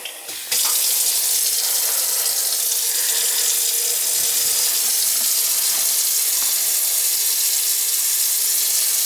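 Kitchen sink tap left running to purge air from the plumbing after pipe repair work, a steady broadband rush of water that holds throughout, with a few faint knocks and no talk.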